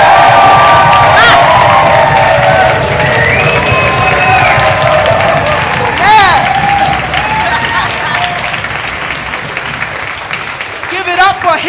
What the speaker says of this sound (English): Give it up for Hip Hop Humanity